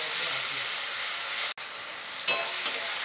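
Ginger-garlic paste sizzles steadily in hot oil, a bright continuous hiss that cuts out for an instant and then resumes, with a brief stir near the end.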